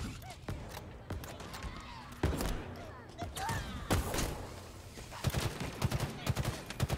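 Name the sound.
gunfire in the video game Halo Infinite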